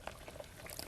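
Runny, soupy casting mix poured into a footprint track, a short wet liquid glug and splatter with small bubbling pops, close and alone.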